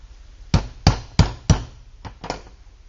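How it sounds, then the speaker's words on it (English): Four loud, evenly spaced hammer blows punch holes in leather for an antique high-wheel penny farthing bicycle saddle, followed by two softer taps, close up in a quiet workshop. "what I'm going to do here is put a hole there"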